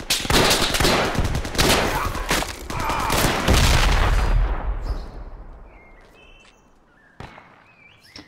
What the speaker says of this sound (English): Hold on, I'm shooting.